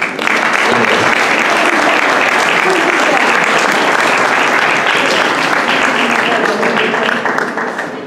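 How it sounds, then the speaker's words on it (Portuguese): Loud, dense audience applause at a regional folk dance group gathering, a continuous roar of many hands clapping close by, with a few voices faintly mixed in, holding steady for the full duration. "A quem eu peço também um aplauso."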